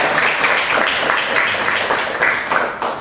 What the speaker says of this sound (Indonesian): Oke, tepuk tangan anak-anak.